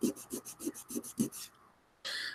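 Sanding a plastic scale model by hand: five or six quick rhythmic rasping strokes, close and clear, then a brief pause before another longer rub.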